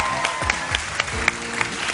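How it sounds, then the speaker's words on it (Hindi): A studio audience on a morning television show greets a guest with applause, a steady patter of many hands clapping at a moderate level for a couple of seconds. "बहुत सारी तालियां प्लीज।"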